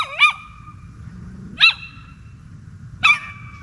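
A small stray dog barks at night near a tent in Ecuador, three sharp, separate barks spaced about one and a half seconds apart against a quiet, low background hum.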